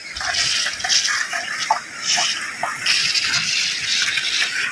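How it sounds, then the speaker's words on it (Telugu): A monsoon-season waterfall in the Udayagiri hills of Nellore district rushes continuously, a loud, steady roar of falling water with slight surges and no speech over it. "ఇంక ఇట్లా చూస్తే మనకు కనపడుతుండే జలపాతాలు. సౌండ్ చూడండి ఎలా వస్తుందో."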